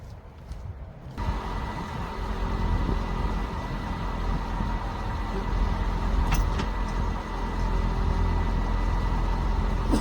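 An aging car engine that may not have many starts left fires up after a second of near silence and settles into a steady low rumble, with a brief metallic clatter partway through.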